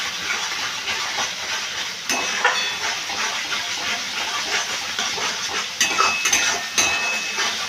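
Spices with garam masala sizzle and fry in a pan for egg biryani while being stirred, a steady close hiss with small bursts of louder crackling.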